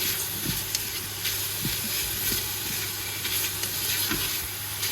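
Chunky pork pieces browning inside a Ninja Foodi, a constant even sizzle and hiss with faint irregular pops and a low steady hum beneath, no voices.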